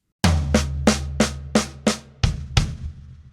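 A drum kit plays a fill. Six quick, evenly spaced, resonant hits sound like the high tom part moved to the floor tom and snare strokes, followed by two heavier hits with deep kick drum thumps. The playing is close and loud, with no talk.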